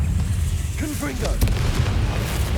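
A Confringo fire-blast spell explodes in the Hogwarts Legacy video game, a short booming burst with a sharp crack near the middle over a low rumbling background.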